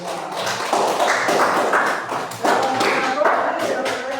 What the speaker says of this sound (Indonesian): tepuk tangan buat kelompok 3 dan kelompok 2